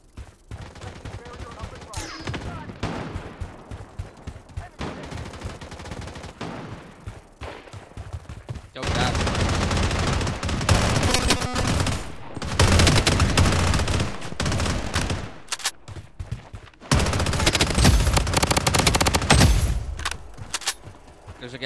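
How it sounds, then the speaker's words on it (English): Gunfire fills a Blood Strike battle royale match: scattered single shots and short bursts early on, then long heavy automatic fusillades in loud waves, with stretches of quieter shooting between them. "I'm getting shot in the fucking back, bro, by some noob on a hill."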